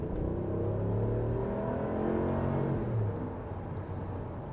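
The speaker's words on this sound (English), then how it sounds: "let's give it some gas" A 2019 Ram 1500 Laramie Longhorn's V8 accelerating, a low steady rumbling drone that climbs gradually and then eases, heard from inside the cab with no talking.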